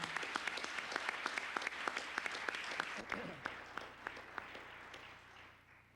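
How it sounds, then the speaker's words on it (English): A small audience at a health promotion presentation for music schools claps in distinct, evenly spaced hand claps. The sound is fairly faint and thins out and fades over the last seconds. "I'd just like to have an appreciative clap for them really loud"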